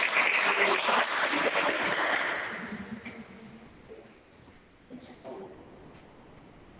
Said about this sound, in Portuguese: Salva de palmas para irmãos felizes.